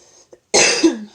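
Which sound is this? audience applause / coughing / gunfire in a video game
coughing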